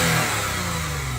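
A V6 car engine revs through its stock exhaust, a dense, steady roar filling the short moment close to the listener.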